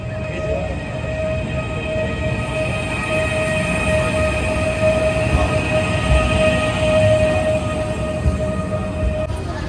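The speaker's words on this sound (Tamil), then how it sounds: "இதாங்க நம்ம போகிற ஹை ஸ்பீட் ட்ரெயின்." A high-speed train stands at Tashkent railway station, giving a steady loud mechanical hum with sustained tonal whines over broadband rumble, continuous throughout with no voices.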